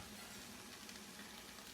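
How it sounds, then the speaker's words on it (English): Hot dog fried rice sizzles steadily in a hot pan, a dense, even crackle with no break, quiet and close. "I love the sound of that sizzle."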